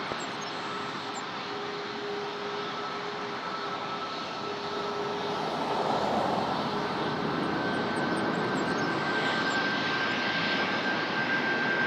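A jet airliner takes off at Toronto Pearson airport (YYZ), a steady, loud broadband engine roar that swells slightly midway and holds to the end, with no voices.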